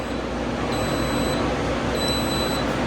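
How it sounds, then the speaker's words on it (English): Two thin, high electronic beeps from an Instant Pot timer sound a second apart over a loud, steady hiss, each tone held briefly and fairly faint. "So the timer is going off,"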